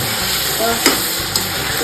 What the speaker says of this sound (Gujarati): આમ આ ગ્રેવી ને તેલમાં વઘારી નાખવાની એમ?